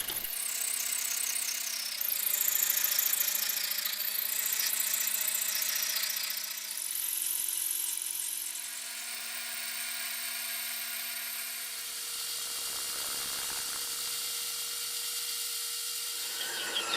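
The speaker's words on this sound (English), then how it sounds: "There was quite a bit of material to machine off this end face." Metal lathe facing the end of metal stock, a loud sustained high-pitched squeal and whine with shifting tones over a steady motor hum, easing slightly toward the end.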